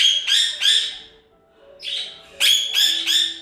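A pet bird gives loud, close squawks and chirps in two bursts of repeated, shrill calls separated by a short pause.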